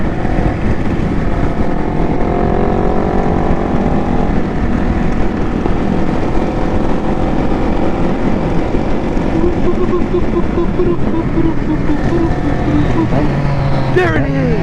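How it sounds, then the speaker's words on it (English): Triumph Street Triple motorcycle approaching at a street group ride and car meet, its engine a steady, fairly loud drone that builds throughout, with people talking over it. "I hear the street triple approaching."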